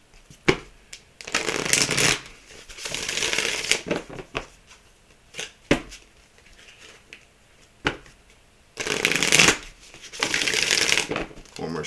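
Oracle cards being shuffled by hand in several bursts of crisp riffling and flapping, close, separated by short pauses with a few taps, and a voice speaking at times.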